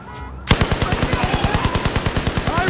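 Rapid bursts of machine-gun fire from Battlefield 4 start abruptly after a brief quiet moment, then continue as a steady, loud automatic rhythm of evenly spaced shots.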